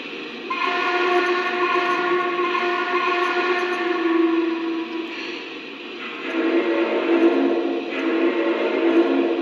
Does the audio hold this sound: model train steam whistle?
yes